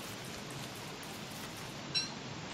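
Steady rain falls in Don't Starve, a soft continuous hiss of drops with a single brief plop partway through and no voices.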